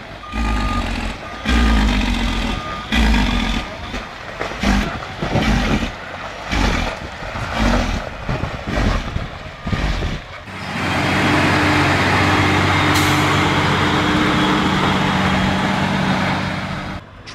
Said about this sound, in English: specialized trucks designed to transport wood from the forest to the processing factory in Chile